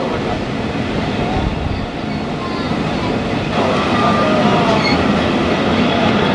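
The Karakoram Express pulls out of Sahiwal railway station with a loud, continuous rumble of wheels and carriages, joined by faint squeals from the rails.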